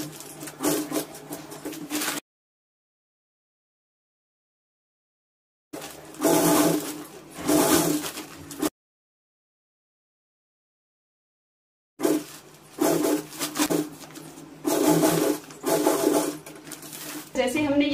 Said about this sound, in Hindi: यहाँ से सिलाई लगाना शुरू करेंगे